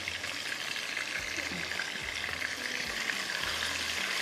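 Pieces of chicken frying in a pan for chicken tikka pasta, giving a steady, fairly soft sizzle with occasional stirring knocks, no voices over it.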